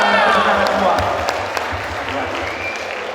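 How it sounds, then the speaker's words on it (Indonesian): A church congregation at a Christmas service in Cimahi applauds together, a dense wash of clapping that fades gradually, with a voice talking over it. "Berikan tepuk tangan semua"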